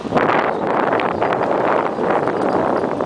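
Steady wind roaring over the microphone while riding a bicycle with a group toward Ptuj, Slovenia, a loud, continuous broadband rush with no talk.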